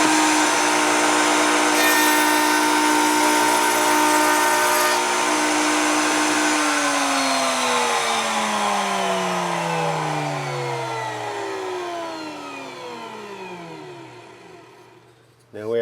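A router table running a round-over bit in scrap pine gives a loud, steady high-pitched whine that gradually winds down in pitch as the motor coasts to a stop, ending with a faint click.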